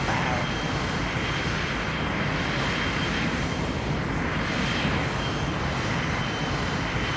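Private jet engines whining and rumbling steadily while the aircraft taxis toward its parking stand, a loud, continuous broadband roar heard from inside.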